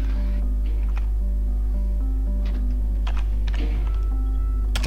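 Computer keyboard keys clack in quick irregular bursts during a game of Final Doom, heard faintly beneath the game's music and a steady low hum.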